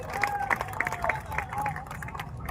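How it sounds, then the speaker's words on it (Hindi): An audience applauds at a Hindi poetry recital, a kavi sammelan, with a dense patter of clapping mixed into crowd noise and voices, all heard from within the hall. "आप लोगों की तालियां थोड़ी कमजोर है।"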